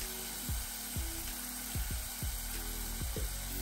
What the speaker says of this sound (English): We'll cook these onions for 2 to 3 minutes and we'll try to give a nice translucent color.